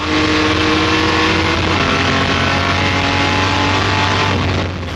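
A Jaguar D-type race car accelerates hard in gear on a track, its engine roaring loud and close, with a brief shift partway through before it keeps pulling strongly.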